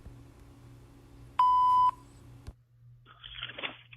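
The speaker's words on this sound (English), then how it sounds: "Leave a message after the beep." A single steady voicemail beep lasting about half a second, clear and electronic, followed by faint shuffling noise.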